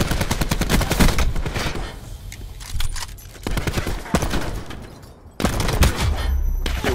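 A video game gunfight plays out as rapid, repeated gunfire bursts, loud and close, broken by short lulls and then resuming near the end.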